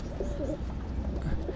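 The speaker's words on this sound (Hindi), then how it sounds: "इनके कुछ रामपुरी कबूतर हैं, ब्रीडर ये" Rampuri pigeons at a breeder's setup give soft, low cooing in a few short, rounded phrases, close by over a steady background murmur, with no voices.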